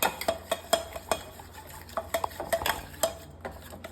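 Dosa batter being stirred and mixed in a vessel, a close, steady run of scraping, clinking spoon strokes in an uneven rhythm, with no voices over it.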